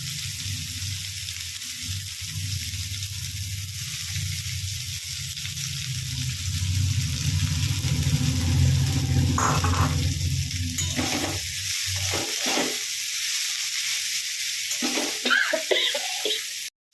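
Chopped ash gourd leaves fry in a pan with a steady, close sizzle that swells midway, broken by soft stirring scrapes and occasional utensil knocks near the end.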